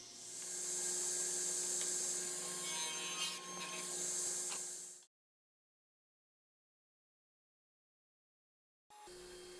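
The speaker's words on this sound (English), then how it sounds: "Now I'm making dado cuts in all the sides" Saw cutting dado grooves in teak for a beer caddy, a steady close rasping cut for about five seconds, then silence before a brief restart.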